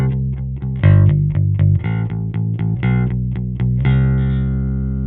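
An electric bass played with a pick and recorded direct through a Kemper into an audio interface, with no amp, picks out a steady phrase of evenly spaced notes with sharp attacks, clean and sustained, ending on a held note.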